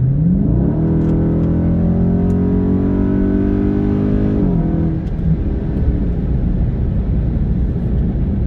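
A 2020 widebody Dodge Charger Scat Pack with an aftermarket intake drones loudly from inside the cabin while driving, its engine note rising and holding under acceleration, then dropping off to steady road rumble.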